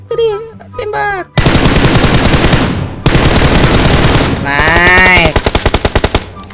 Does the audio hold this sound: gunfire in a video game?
yes